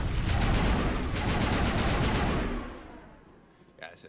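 Rapid gunfire in Mass Effect: Legendary Edition, a loud sustained burst of automatic shots that thins out and fades near the end, followed by a brief electronic blip.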